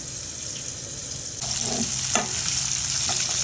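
Sliced bitter gourd fries in a pan, a quiet sizzle that jumps louder partway through, with a few scraping stirs.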